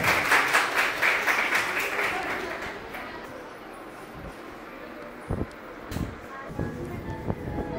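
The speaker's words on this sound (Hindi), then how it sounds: "करताली दिए" An audience applauds at a girls' high school summer workshop in Assam. Loud, dense clapping fills the first few seconds, then thins out to scattered single claps, with some voices mixed in.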